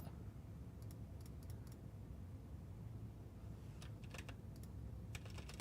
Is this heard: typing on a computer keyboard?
yes